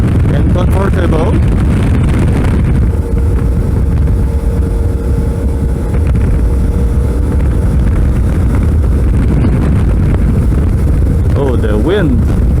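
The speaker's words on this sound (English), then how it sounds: "Oh, the wind! It's so windy." Heavy wind buffeting on a Suzuki V-Strom 650 motorcycle while riding, a loud low roar and rumble running throughout, with a voice talking over it at the start and end.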